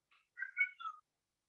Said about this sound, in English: I have a cat and he's being a bit noisy.